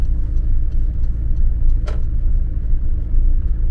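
Steady traffic on a snowy Chisinau street, with a continuous low engine rumble from many passing cars, fairly close and loud throughout, and a brief sharper swish of one vehicle near the middle.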